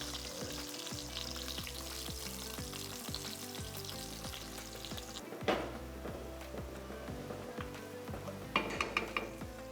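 Onions sizzle steadily in a hot pan as spices and garlic go in, with a continuous close frying hiss, occasional utensil scrapes and clinks against the pan, and a brief louder stir partway through.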